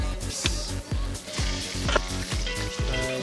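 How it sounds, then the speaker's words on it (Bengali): An egg frying in a pan, with loud, steady sizzling and spattering and a rhythm of low thumps underneath. "ডিম ভাজা হচ্ছে"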